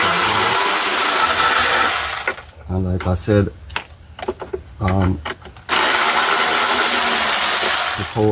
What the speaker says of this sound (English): put my power tool back here, because it's very difficult to catch.